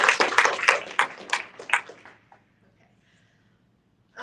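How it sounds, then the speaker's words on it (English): An author gathering's audience claps in a burst of applause that thins out and fades to near silence after about two seconds. "can we just give her a big round of applause?"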